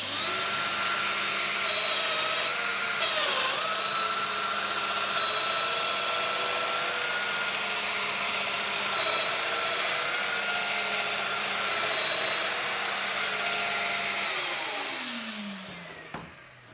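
A Festool MegaDomino joiner cuts a deep 70 mm mortise in wood, its motor whining loud and steady with pitch wavering as the cutter plunges, then winding down at the end. No one speaks.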